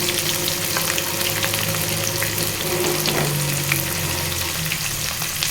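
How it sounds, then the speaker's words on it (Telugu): Finely sliced onions fry in a pan over a low gas flame, a loud continuous sizzle and crackle with occasional stirring, close up and without voices. "ఇప్పుడు ఉల్లిపాయ ముక్కలు వేస్తున్నాను"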